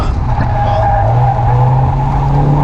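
A stock Mazda Miata's tires squeal steadily as the inside wheel spins under hard cornering, a loud sustained screech over the engine's drone, heard from inside the car.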